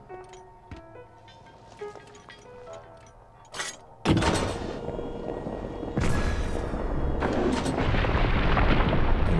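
In The Legend of Zelda: Breath of the Wild, a bomb detonates with a heavy boom, followed by a rumbling blast and further deep thuds that fill the scene after quieter game noises.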